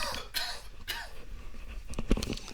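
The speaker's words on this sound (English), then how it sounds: "Excuse me, I got a cough there." A couple of sharp coughs close to the microphone, with a brief throat-clearing sound among them.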